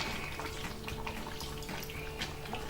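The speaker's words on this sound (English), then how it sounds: "I'm going to add a bit of water" Water pours into a pot of Nigerian Banga soup, a steady close rush of liquid running without a break for a few seconds, with no voices over it.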